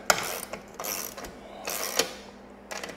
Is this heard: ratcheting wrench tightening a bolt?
yes